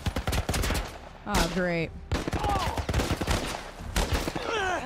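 Rapid gunfire from The Last of Us video game crackles through the scene, mixed with game sounds and tonal sweeps, while a player speaks briefly.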